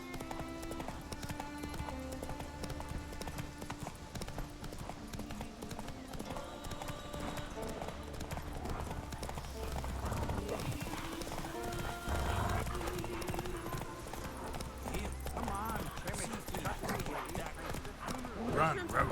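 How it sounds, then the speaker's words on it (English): Roach the horse gallops in The Witcher 3 video game, with steady hoofbeats and a whinny under music and game voices. "Run, Roach"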